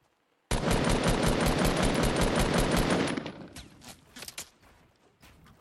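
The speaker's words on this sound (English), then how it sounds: "Now I got two guys shooting at me." Rapid automatic gunfire from enemies in the video game Fortnite bursts out loud and sustained for about three seconds, then breaks into scattered shots and clatters that fade.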